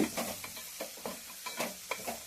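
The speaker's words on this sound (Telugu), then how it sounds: "కోసిన ముక్కలన్నీ కూడా మెత్తబడే వరకు కూడా వేయించాలి" Chopped ivy gourd (tindora) pieces sizzle in a pan, with repeated stirring scrapes every half second or so layered over a steady crackling fry; close and moderately quiet, no talking.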